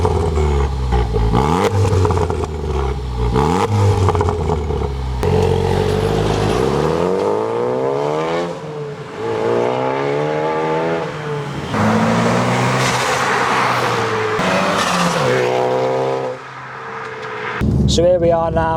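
A Ford Focus ST drives back into an estate, its engine rising and falling through repeated accelerations and gear changes, loud and close from inside the car while someone talks over it.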